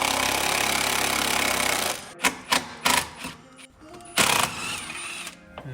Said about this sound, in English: We're going to use a 12mm to remove the 3 bolts that hold your battery base on.